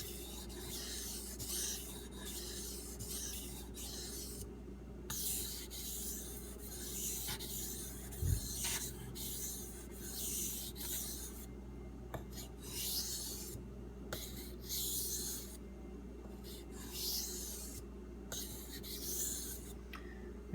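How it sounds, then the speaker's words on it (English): A knife is ground on a sharpening stone in steady, continuous rasping strokes, close and even, with brief gaps between passes and one small knock partway through. "grind the knife to a burr"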